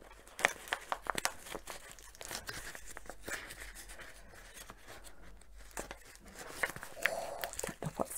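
A well-wrapped birthday mail package being snipped and torn open by hand, with scattered crinkling paper, crunching wrap and short sharp tearing sounds at close range, spread unevenly and quiet throughout.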